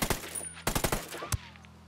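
Sniper rifle shots in the video game Ghost Recon Wildlands crack out in sharp, separate bursts: a few shots close together, then another a moment later, over a quiet low hum.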